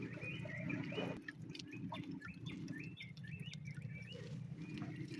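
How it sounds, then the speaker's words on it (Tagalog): Several birds chirp and call in short bursts over a steady low rumble of outdoor background noise, with no one speaking. "Ang ingay ng mga ibon"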